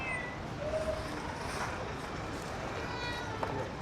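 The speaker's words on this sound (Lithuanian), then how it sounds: "Žiūrėkit, kiek daug katinų." A group of street cats gathered in Jordan: faint, scattered meows rise from a steady hiss of outdoor ambience, with people's voices and movement nearby.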